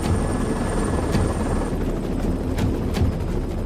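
A heavy-lift helicopter works over a timber logging site, its rotor and engine roar loud and steady throughout, with a few sharp higher bursts cutting through the constant drone.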